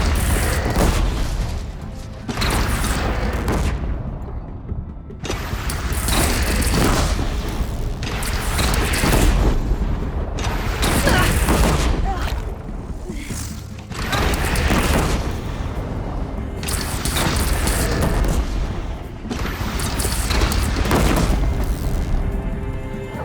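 In the Horizon Zero Dawn video game, a bandit cannon fires repeatedly, with heavy booming blasts every few seconds and a rumbling battle din between them.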